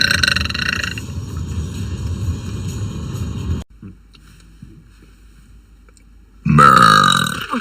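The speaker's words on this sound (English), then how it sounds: "Okay, I burped for you." A girl burps loudly: a long, rough belch that trails off, a quiet pause, then a second strong, drawn-out belch close to the microphone.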